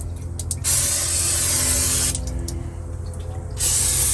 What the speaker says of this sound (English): I'm having a little problem with the cooking spray. It's deciding to go everywhere and it's not working right.